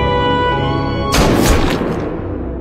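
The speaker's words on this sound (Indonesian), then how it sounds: "terdengar suara tembakan milik warga" A single loud gunshot in the film Inhuman Kiss cuts across sustained tonal music, hitting as a sharp broadband blast and then decaying into a rough fading rumble.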